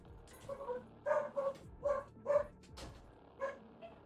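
Small dog barks and yips repeatedly in short, evenly spaced bursts, fairly close, with faint whimpering between barks.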